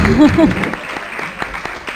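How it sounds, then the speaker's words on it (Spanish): Applause crackles at moderate volume after a short vocal exclamation at the start, the clapping continuing evenly to the end. "Un fuerte aplauso para Sol"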